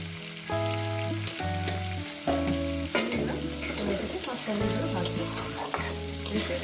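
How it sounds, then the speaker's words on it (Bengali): Vegetables, potato pieces among them, frying in a pan with steady sizzling and stirring scrapes, under loud continuous background music, with no speech. "ভেজে নেবো পাঁচ মিনিট ধরে"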